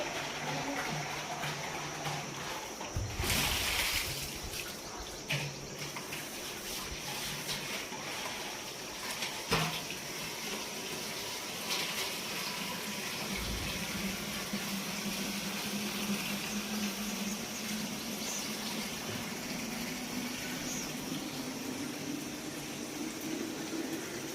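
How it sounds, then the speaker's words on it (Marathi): Water filling from a tap, a steady continuous rushing stream with a few brief bumps, close and alone throughout. "पाणी भरायचं काम चाललं"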